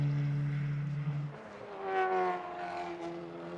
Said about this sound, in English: The engine note wasn't peaking